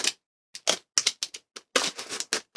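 A trusty knife slicing into a cardboard shipping box holding an Uncanny X-Men omnibus, heard as a series of sharp, close scraping cuts and tears in irregular bursts separated by brief silences.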